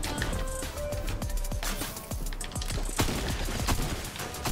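Rapid bursts of gunfire from the Mandalorian-themed Fortnite match crackle steadily for several seconds, dense sharp shots layered with mechanical clicks of weapon handling, loud and close with no talking.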